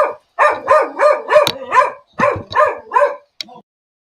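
A watchdog barks repeatedly at home when someone comes to the door: about eight loud, close barks in a steady rhythm, ending with a short high yip, with no voices over it.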